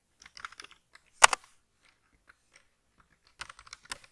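Typing code on a computer keyboard, short clusters of quiet keystrokes with a brief louder burst early on, then pauses before another quick flurry of taps.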